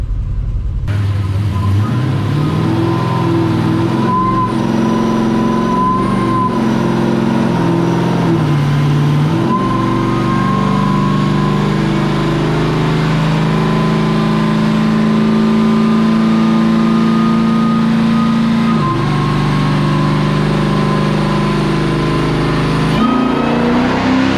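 A Dodge Demon engine runs loud and close for the whole stretch, holding a steady throaty idle with a few rises and dips in revs and a brief throttle change near the end.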